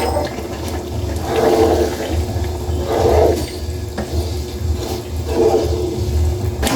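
Coconut milk poured into an adobo of eel: a steady liquid splashing and gurgling with soft swells, close by, without voices.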